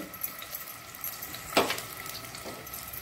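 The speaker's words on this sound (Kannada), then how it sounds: "ಈಗ ಎಣ್ಣೆ ಸ್ವಲ್ಪ ಬಿಸಿ ಆಗುವಾಗ ಈ ಆನಿಯನ್ ನೋಡಿ, ಫುಲ್ ಒಂದು ದೊಡ್ಡ ಆನಿಯನ್ ಅಂತ ಇಟ್ಕೊಂಡಿದ್ದೇನೆ ನಾನು ಸ್ಲೈಸ್ ಮಾಡಿದಂತಹದ್ದು." Sliced onion, one large onion, sizzling and frying in hot oil in a pan, a steady soft crackle with a brief stir or clatter near the middle, close and fairly quiet.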